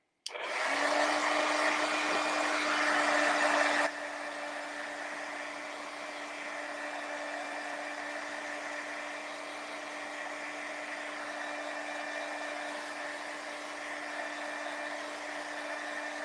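A hair dryer blows at a handmade Victorian carolers Christmas card to dry the paint, a loud steady whoosh with a constant hum that drops to a lower level after about four seconds and keeps running.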